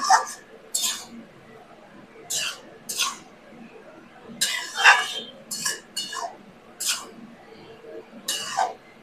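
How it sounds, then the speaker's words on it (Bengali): Cabbage being stirred in a pan with a utensil, giving a series of short metallic scrapes and clinks spaced irregularly over a quiet background. "আমি নাড়িয়ে নিচ্ছি"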